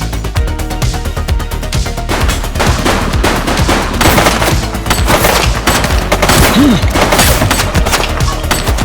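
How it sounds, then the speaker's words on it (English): Rapid gunfire from the cop sandbox video game The Precinct, with dense, overlapping bursts of shots and automatic fire that continue loudly and without a break throughout. "Shots fired!"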